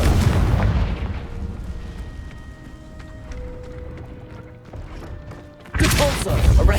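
A Confringo fire spell bursts loudly in Hogwarts Legacy, a heavy booming blast at the start that fades into lighter game sounds and clicks, then another loud burst of impact noise near the end.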